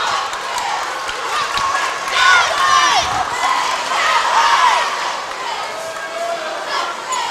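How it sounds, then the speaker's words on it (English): A vocal crowd at a high school basketball game between Knott Central and Hazard cheers and shouts steadily, with swells of louder cheering and a few high calls rising above the din. "These referees getting to hear from this vocal crowd behind us."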